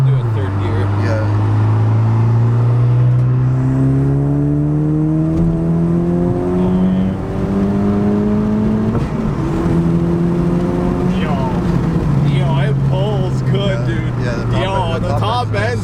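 Honda Civic Si (10th gen) fitted with a 27WON W1 turbo accelerating hard in third gear, engine note climbing steadily in pitch, loud and close from inside the cabin, with people talking and cheering over it.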